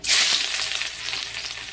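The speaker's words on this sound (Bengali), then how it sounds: "এই দেখো রসুনটা আমি আগে দিয়ে দেবো হচ্ছে তেলের মধ্যে" Garlic sizzles steadily in hot oil, a close, bright hiss that swells loudly at first and then settles into an even crackle with no voices.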